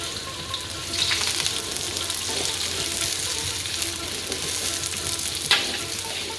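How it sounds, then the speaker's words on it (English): Onions frying in hot oil in a pan for chicken pulao, giving a steady close sizzle with stirring scrapes and a few clicks throughout, with no talk. "just give it a good stir to make sure that the oil coats all of the onion, and we'll just let it sit to fry"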